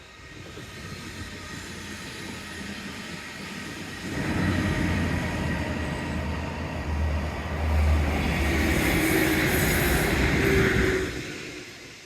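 A train passes along the seafront at Teignmouth, a sustained rumble that swells loudly midway and fades near the end, heard close with wind-like noise.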